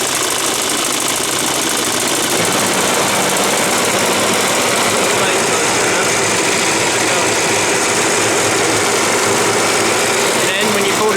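Small petrol engine on a Suffolk reel mower running steadily at high revs, a loud, continuous buzzing drone heard close by with no break.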